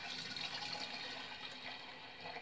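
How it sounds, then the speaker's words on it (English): Water used to rinse bottles pours out in a continuous, soft, faint splash and trickle, heard alone with no talking. "to use some of the water that I rinsed the bottles in to do this"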